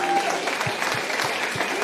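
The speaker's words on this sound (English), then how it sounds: "Please clap for our friend Shane Torres" A comedy show audience claps continuously and fairly loudly for a comedian, with scattered cheers mixed into the steady applause.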